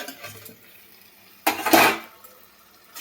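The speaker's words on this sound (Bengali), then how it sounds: "বন্ধুরা এবার ঢাকাটা তুলে নিব।" A metal lid comes off a pot of simmering stuffed pointed gourd dorma with one loud clattering scrape, followed by a brief rush of bubbling steam, close to the listener with quiet kitchen sounds before and after.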